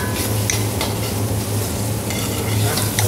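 Boiled liver and tomato paste are stirred in a hot pan, with a steady loud sizzle and frying hiss and a spoon scraping continuously, close up and without talk.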